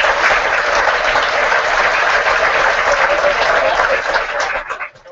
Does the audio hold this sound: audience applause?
yes